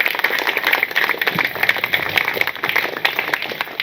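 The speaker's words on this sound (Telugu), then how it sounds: "ఇప్పుడు అందరూ మనము చప్పట్లతో వారిని అభినందిద్దాం" A crowd claps to congratulate a newly married couple, HIV-affected partners wed in Nandyal, giving dense, continuous applause that stays fairly close and steady throughout, with no voices over it.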